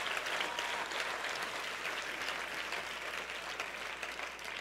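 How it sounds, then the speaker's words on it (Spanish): A church congregation applauding, dense and continuous clapping heard at a moderate distance with no clear voices. "Si usted quiere aplauda y si no, no."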